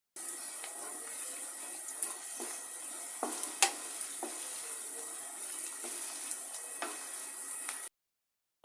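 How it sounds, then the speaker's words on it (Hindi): Chopped onions fry in a pan with a steady, close sizzle, broken by the light clicks and scrapes of stirring, before the sound abruptly stops. "जैसे मैं सबसे पहले करूँगी प्याज को फ्राई।"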